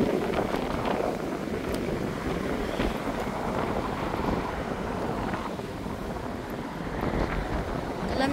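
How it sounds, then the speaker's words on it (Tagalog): Cold wind blowing steadily outdoors under a blue sky, a continuous loud buffeting roar across the whole stretch with gusting texture and no talk. "Kalamig sa hangin, ay."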